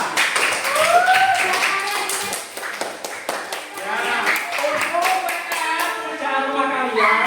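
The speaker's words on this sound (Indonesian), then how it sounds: "Kita kasih tepuk tangan yang meriah." A classroom of students claps for a student group after their presentation, a busy run of sharp hand claps lasting several seconds, with voices mixed in under the clapping.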